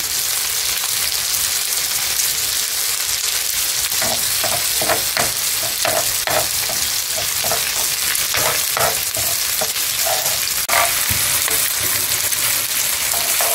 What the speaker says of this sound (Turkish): Ne kadar güzel çevirerek kızartalım.